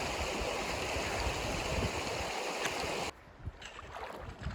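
A shallow wilderness stream in the Gila Wilderness of New Mexico rushes loudly and steadily around someone wading down its middle, then drops abruptly to a softer, closer trickle and splash.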